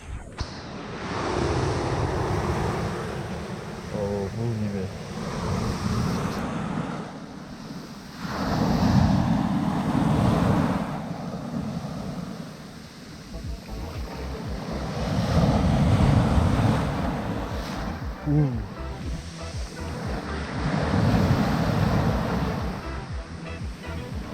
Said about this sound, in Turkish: Deniz. Hafif dalgalı.